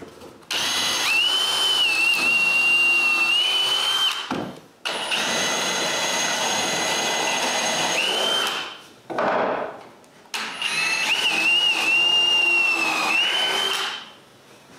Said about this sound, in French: je perce 8 trous bien droits, mais pas trop profonds